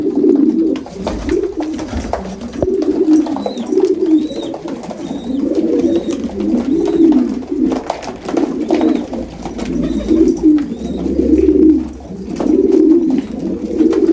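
An agitated male pigeon coos repeatedly in rhythmic, throaty bursts close by, steady and loud, with faint higher chirps from other birds in the background.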